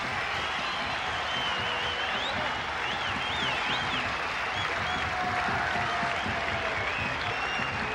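Some 15,000 spectators at a 1996 Cricket World Cup match between Sri Lanka and Kenya applaud a batsman's fifty, a sustained roar of clapping and crowd noise filling the stadium with distant whistles.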